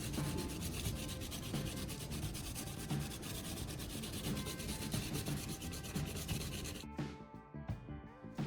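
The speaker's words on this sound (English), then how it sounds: "I continue to work the sanding block across the blade, maintaining consistent pressure and angle." A sanding block scrapes back and forth across a dull steel knife blade being sharpened, making a continuous close, gritty rasping rub at an even pace that thins out briefly near the end; no voices.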